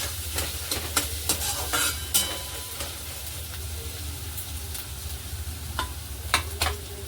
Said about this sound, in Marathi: कांदा मऊ पडेपर्यंत आपण फ्राय करायचा